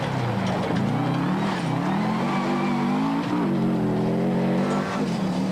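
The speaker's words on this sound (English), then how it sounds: "The big Subaru looks less affected by the conditions and makes the most of its all-wheel drive traction." A big Subaru all-wheel drive rally car drives hard in a 2002 Volkswagen rally, its engine loud and close and rising and falling with each gear change.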